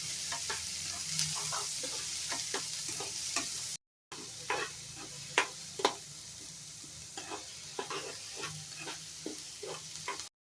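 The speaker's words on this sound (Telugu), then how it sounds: "ఉల్లిగడ్డ మొత్తం రెడ్ కలర్ అయినంత వరకు కలపాలి." Onions frying in a pan are stirred repeatedly until they turn red, with a steady sizzle under a string of quick scraping and clinking strokes that come close and clear, broken by a brief gap.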